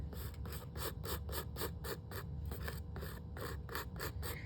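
Hand filing of a nail to smooth away bumps and leftover product, a steady back-and-forth rasp repeating about three strokes per second, close and fairly loud with no talking.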